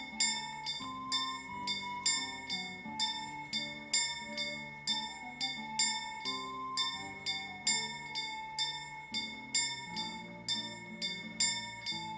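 Repeated bell strikes in the video game Kingdom Come, ringing in a steady rhythm about twice a second over a backdrop of game music, each chime bright and clear with a short decay.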